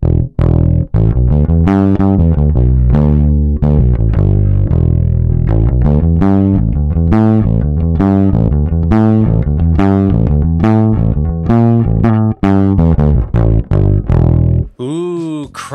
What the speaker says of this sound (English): Now we're getting a little distortion.